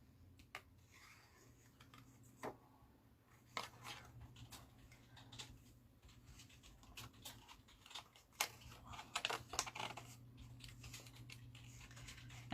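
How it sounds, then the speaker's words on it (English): Scissors snip through paper around a Santa cutout in a Christmas craft project: quiet, close, irregular clicks and crisp paper rustles, spaced unevenly with a soft low hum underneath. "I'm just cutting around Santa's head"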